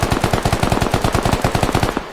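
An AK-74M rifle in the tactical shooter Squad fires in sustained full-auto, a steady rapid string of roughly twenty loud, punchy shots that stops abruptly near the end.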